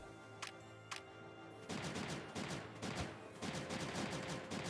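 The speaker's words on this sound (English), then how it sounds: "it's not pew pew laser, but it is explosion gunshots" Explosive gunshot effects from the strategy game Creeper World 3: two sharp isolated cracks, then a dense, continuous barrage of rapid overlapping blasts at steady loudness.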